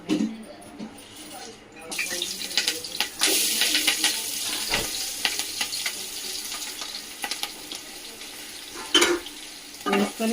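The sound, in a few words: turmeric frying in hot oil in pan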